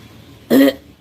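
A wedding groom or bride gives one short, close, loud cough, like a quick throat-clearing burst, in a windy outdoor setting with a faint start of another sound at the end.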